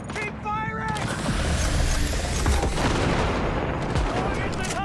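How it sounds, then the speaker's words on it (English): Dense bursts of gunfire and heavy volleys in Cyberpunk 2077, loud and sustained throughout, with shouted voices and game sounds layered over the shooting. "Keep firing!"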